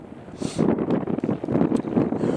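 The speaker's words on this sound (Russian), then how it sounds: "Ветер очень сильный." Strong wind on a frozen lake buffets the microphone in a continuous, rumbling roar with gusty surges and flutter, loud and close throughout.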